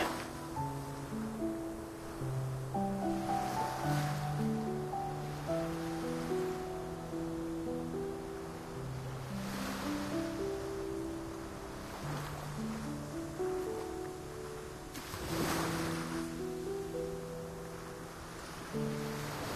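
Ocean waves washing onto a clean beach in the video game Love and Deepspace, soft surges rising and falling beneath gentle game music, fairly faint.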